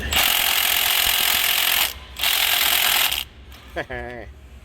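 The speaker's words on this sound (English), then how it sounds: "We're gonna have to break it free with the twin ratchet" A twin ratchet works on a tight 30mm nut on a bolt that holds the AC compressor of a 2019-or-later Chevy Silverado-type truck. Loud, close, rapid mechanical clicking comes in bursts with short gaps, ending in a brief creak and then quieter noise.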